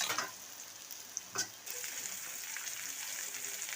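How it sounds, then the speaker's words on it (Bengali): Lentil dumplings (bori) with salt and turmeric fry in a kadai with very little oil, giving a soft continuous sizzle and a couple of brief stirring scrapes, with no talking. "বড়িটা আমি লাল লাল করে ভেজে নিচ্ছি।"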